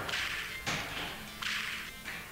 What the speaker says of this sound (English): I see, I gotta whip all the way across.